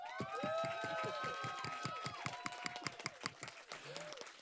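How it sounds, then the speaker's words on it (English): Audience applauding Jonathan at a storytelling event on Caribbean spirituality in Amsterdam, a crowd clapping fairly quietly and rhythmically alongside sustained whooping cheers and rising, falling voices. "I do think that we need a massive applause for Jonathan before we close"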